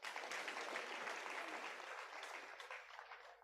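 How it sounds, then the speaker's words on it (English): Short burst of audience applause at an under-40 business leaders forum, a dense crisp clapping from a seated crowd that starts strong and fades slightly over a few seconds, with no talk over it. "they deserve another clap"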